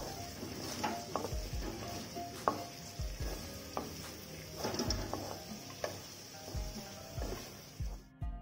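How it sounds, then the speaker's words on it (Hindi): Onions stirred in a pan for a homemade pizza sauce, with repeated scraping strokes and light clinks of a spoon against the pan over a faint sizzle, close and fairly quiet, no talking. "अच्छे से चला लेते हैं इन्हें।"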